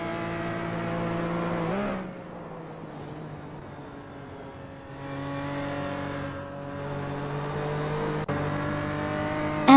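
Several race cars in a video game roar with sustained, shifting engine tones, one car revving and dropping pitch before climbing again, loud and close throughout with no talking.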